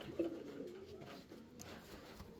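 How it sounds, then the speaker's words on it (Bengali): A female white-top pigeon with trimmed tail and foot feathers, kept on a breeding farm, gives a soft low coo near the start, followed by quieter murmuring against faint background noise. "এটা একটা মাদি কবিতর ঠিক আছে মাদি কবিতর দেখেন হোয়াইট টপ মাদি কবিতর"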